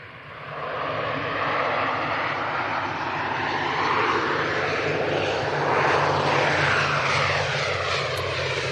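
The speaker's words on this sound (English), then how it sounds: "we have this prop about to touch down to join that queue" A propeller airliner on final approach at Manchester Airport rumbles loudly and steadily overhead, its engine drone swelling slightly as it nears touchdown, with no voices.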